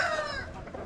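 Chickens cluck on a small farm kept for eggs, a brief cackling call up close at the start that fades into quieter background clucking.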